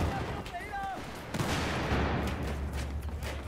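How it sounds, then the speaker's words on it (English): Battlefield 4 multiplayer gunfire on PS4, bursts of shots and distant explosive booms over a low rumbling background, with a brief whistling whine early on and a person speaking faintly. "teammates were shooting at each other"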